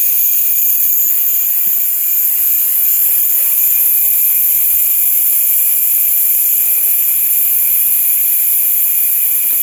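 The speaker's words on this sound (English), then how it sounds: "So I'm just dumping all that pressure in this air hose here now." Compressed air bleeding from a compressor tank at about 100 PSI through an air hose, a loud steady hiss that runs unbroken and alone throughout.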